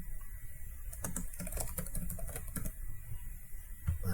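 Keys clatter on a computer keyboard as a username is typed into a login form, a quick burst of close, crisp clicks in an irregular rhythm over faint room hum.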